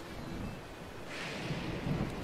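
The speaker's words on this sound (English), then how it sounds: "Get struck by lightning!" In Zelda: Breath of the Wild, a stormy outdoor scene carries a steady rush of rain and wind. Partway through, a distant rolling rumble of thunder swells and lingers.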